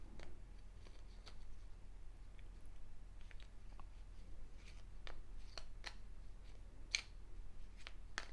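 Faint, intermittent crisp riffling and clicking of a deck of game cards being given a larger shuffle in a tabletop campaign, quiet and close with scattered snaps.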